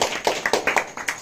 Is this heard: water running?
no